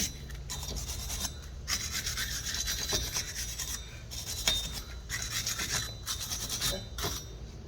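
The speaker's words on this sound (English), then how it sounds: "Go ahead and get our mating surfaces cleaned up." Close, raspy scrubbing on the brake hub mating surfaces of a 2002 Kia Optima LX during a pad and rotor job, in repeated bursts of back-and-forth strokes with short pauses between them.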